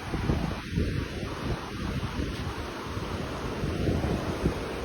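Steady wind rushing over a microphone with a low, continuous surf-like roar of sea waves underneath at Villa Royal Beach, Puerto Princesa, Palawan, no voices.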